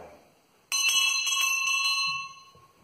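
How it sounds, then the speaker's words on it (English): A doorbell rings once, a bright metallic bell tone that sounds clearly near and then rings out for about a second and a half before fading into quiet. "And then the doorbell rang."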